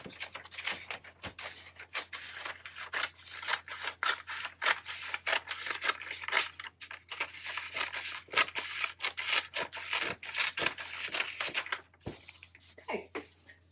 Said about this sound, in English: I'm going to take a pair of scissors, or you can use an X-acto knife, and just trim the dust cover off just over that edge a little bit.